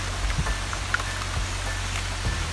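Steady heavy rain pours down on a forest river as a small boat is paddled through it, a dense continuous hiss with a few close drips and splashes and no talking.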